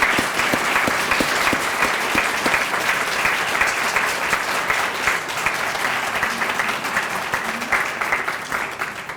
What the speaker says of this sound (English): Can we give one more round of applause to our recipients?